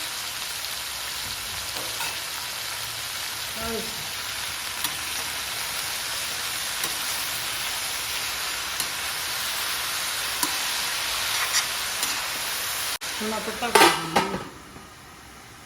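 Cluster beans with green chillies frying in a pan, with a steady sizzle and occasional stirring scrapes, and a louder metallic clatter of utensils near the end.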